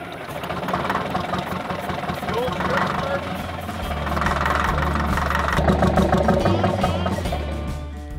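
An abandoned tractor's engine is cranked, producing a continuous rough, knocking mechanical drone that swells slightly partway through, loud and close.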